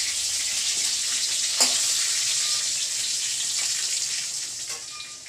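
Pointed gourd (potol) slices fry in a pan with a steady, hissing sizzle that holds at an even level throughout, with a few faint clinks and no talk.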